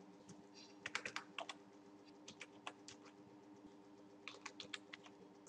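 Fingers tap out an enrollment number on a computer keyboard, quick bursts of close, crisp keystrokes separated by short pauses, with a faint steady hum underneath.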